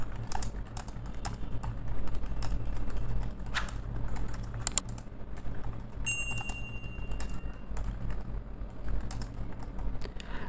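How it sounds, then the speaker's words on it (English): Rapid keystrokes clatter on a Dell KM717 computer keyboard, an uneven stream of close clicks continuing throughout with a few louder taps. "the keys are making that clicking noise, which is quite comforting for the ears"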